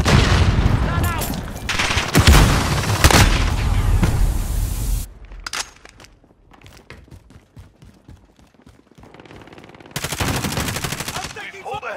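Call of Duty gameplay with loud rapid automatic gunfire bursting for several seconds, a quieter stretch of scattered shots and clatter, then another dense burst of firing near the end, faint game voices underneath.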